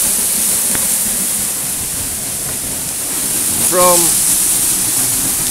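The Eas Mor waterfall roars as a dense, steady wash of rushing water, loud and close, with a brief spoken word partway through.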